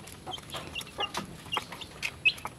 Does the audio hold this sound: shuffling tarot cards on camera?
no